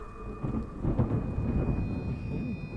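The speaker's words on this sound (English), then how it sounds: "There's a storm headed this way." A thunderstorm with rain in a horror film trailer: a low rolling rumble of thunder swells under a constant wash of rainfall, with faint tonal hum lines running through it.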